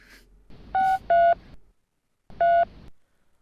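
Telephone keypad tones, then repeated steady busy-signal beeps with short pauses between them, clear and close.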